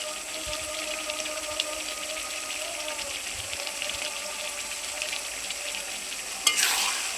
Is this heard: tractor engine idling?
no